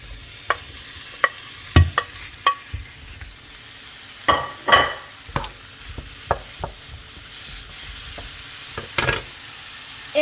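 Sliced mushrooms poured into oil in a hot frying pan sizzle steadily, with sharp scraping and clinking as they are stirred around, close and moderately loud, with no talking.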